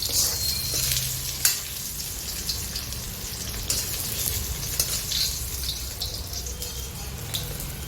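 Cubes of paneer fry golden in hot ghee for a Jain paneer tikka masala, a steady close crackling sizzle with occasional sharper pops and light stirring scrapes, no voices.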